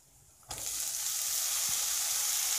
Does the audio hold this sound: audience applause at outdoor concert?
no